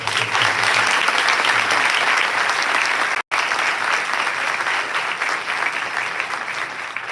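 A crowd at a senior awards ceremony for the Class of 2023 claps in sustained, even applause, with a momentary cut partway through before the clapping carries on at a slightly lower level.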